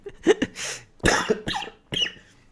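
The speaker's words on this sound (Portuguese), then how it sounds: "A tosse, a garganta não tá deixando cantarolar hoje." Several short coughs from an irritated throat come in quick bursts, close by, with throaty rasping between them and brief pauses.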